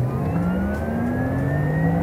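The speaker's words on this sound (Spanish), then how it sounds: "Me voy a despedir volviendo a poner el modo Sport Plus y a pasar de los 480 caballos" A Porsche Taycan Cross Turismo electric car accelerates hard in Sport Plus mode, its rising electric whine climbing steadily in pitch over a road roar, loud and close with no talking.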